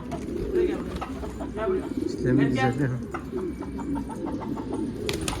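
Pigeons coo in low, throaty murmurs close by while someone speaks over them.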